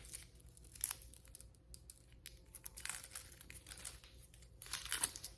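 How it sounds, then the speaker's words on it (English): A fingernail runs along a harvested onion, peeling off its dry papery outer skin in faint, close crinkles and soft tearing rustles, with a few sharper crackles. "running up the skin with my nail and kind of moving along with the direction of the peel and getting it all off that way"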